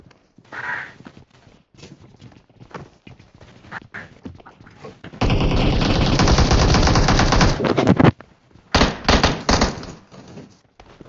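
Gunfire rings out in the mobile battle royale game PUBG Mobile: scattered single shots, then a loud sustained automatic burst lasting about three seconds, followed by a few more close, rapid volleys.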